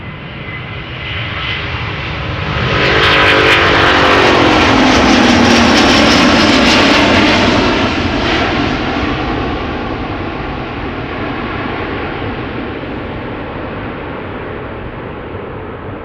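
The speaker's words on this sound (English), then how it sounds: "This is Delta Airlines flight 57, outbound to Salt Lake City. A330neo, 2 years old" A two-year-old Delta Air Lines Airbus A330neo on its departure roll from Schiphol Airport sends up a loud jet roar that swells to a peak and then fades into a long, steady rumble, with no voices over it.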